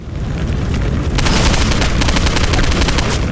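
Sustained gunfire in the video game Postal 2, loud and close, in a dense rapid stream with no pauses. It grows heavier after the first second and drowns out everything else.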